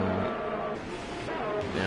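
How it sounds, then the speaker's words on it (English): F1 2018 racing cars roll out of the pits to begin qualifying, a dense, continuous engine drone with shifting pitch as several cars pass nearby, steady and fairly loud throughout. "And there's a lot of cars going out there to start the session."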